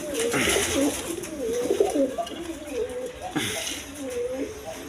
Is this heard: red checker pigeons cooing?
yes